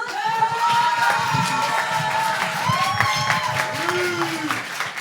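Clapping and cheering rise from the audience at a slam poetry tournament, steady and fairly loud, with voices talking and calling over the crowd throughout.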